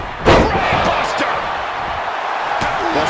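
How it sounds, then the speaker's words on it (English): Roaring arena crowd in the WWE 2K22 wrestling video game, a loud continuous wash of cheering opening with a heavy slam-like thud, with a commentator talking over it. "The sound of this crowd is deafening, and he's asking for more."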